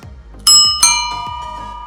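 A Knog Oi bicycle bell is struck twice in quick succession, each bright metallic ding ringing out clearly and decaying slowly over a faint low hum, with no talking.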